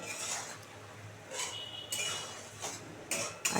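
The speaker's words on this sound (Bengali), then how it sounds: "দেখো কি সুন্দর ফুটছে" A spoon stirs olive pickle as it simmers in a pan, making quiet, sparse metallic scrapes and clinks in short bursts against a soft, low background.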